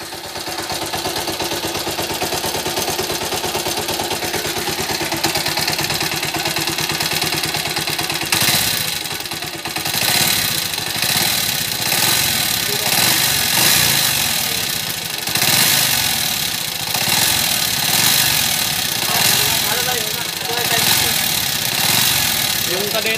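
A Kawasaki R180 motorcycle engine with a noisy motor idles steadily with a low, chugging rumble throughout, briefly revving midway, while people talk nearby.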